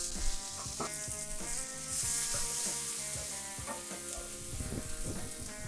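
Garlic fries in oil with carrots, onions and celery over medium-high heat, a close, steady sizzle broken by repeated clinks and scrapes of stirring.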